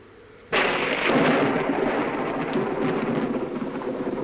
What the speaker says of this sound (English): I love thunderstorms, don't you?